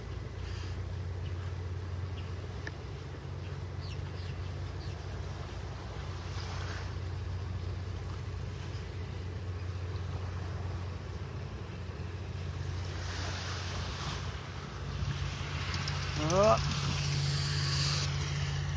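Jet skis are launched into the Gulf surf from a beach beside the Ritz in North Naples, Florida. A low engine drone hums steadily under soft wave wash and wind buffeting, with a few brief louder bursts toward the end.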